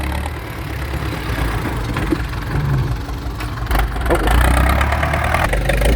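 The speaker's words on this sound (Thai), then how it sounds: "เป็นเครื่องยนต์สี่สูบครับ" A four-cylinder 75-horsepower engine idles steadily at a pond-digging site, a continuous loud rumble with slight rises, and a voice talks over it.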